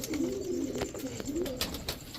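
A pair of Pakistani Fakirgul pigeons, male and female, coo close by in repeated low rolling phrases, about three cooing bursts with light rustling and clicks between.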